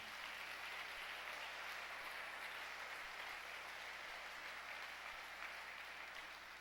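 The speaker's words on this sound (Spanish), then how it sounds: "Dale un fuerte aplauso al Señor." A large church congregation claps steadily and loudly, a dense continuous wash of applause that holds for several seconds.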